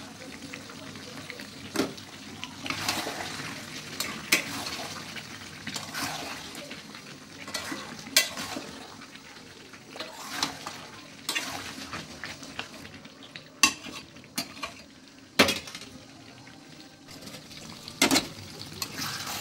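Meat with tomato fries down in a pan until the oil separates, a soft low sizzle with intermittent spoon scrapes and sharp knocks against the pot, fairly quiet and close.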